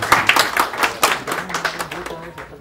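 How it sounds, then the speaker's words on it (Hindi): Clapping from an audience at a music launch event for a new song, a few seconds of uneven hand claps with talk or cheering mixed in. "सो एक जोरदार तालियां हो जाए"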